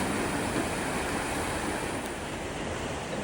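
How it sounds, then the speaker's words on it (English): Water rushing into a deep lock on the Canal des Vosges in France, heard from a barge as a steady, loud, broadband roar and wash with no breaks or voices. "Here comes the water."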